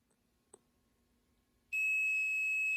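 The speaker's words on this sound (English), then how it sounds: "Now it's beeping." After a quiet stretch and a small click, a Kingbolen brake fluid moisture analyzer starts a shrill continuous electronic beep, signalling bad fluid; it begins abruptly and holds steady, loud and close.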